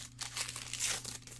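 Wrapped trading card packs, NFL football cards, being torn open by hand, with a steady close crinkling and crackling of foil wrappers that runs through without pause.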